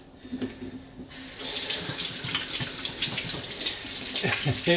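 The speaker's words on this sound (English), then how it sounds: "Let's wash our hands." A kitchen tap runs steadily into a sink while hands are washed before bread making, a close, continuous splashing hiss that swells after a quieter start.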